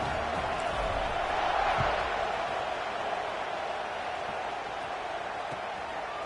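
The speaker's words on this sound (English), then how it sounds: "this crowd is buzzing after that last score" A large stadium crowd at a football game gives off a steady, dense roar and murmur after a score, swelling slightly early on and holding constant throughout, with a commentator's voice mixed faintly into the wash.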